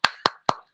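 A group performs a rhythmic spirit clap, three sharp, evenly spaced claps in unison ringing out close and loud, followed by a faint brief sound.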